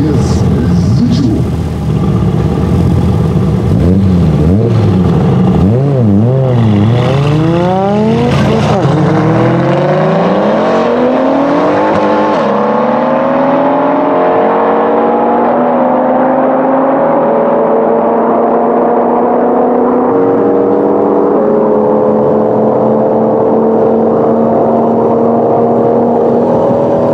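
A Mercedes-AMG C63s TTE760 and a 610 hp Volkswagen Golf race, loud engines revving hard through rapid gear changes, then holding a long rising drone as they pull away, with a voice talking over the roar.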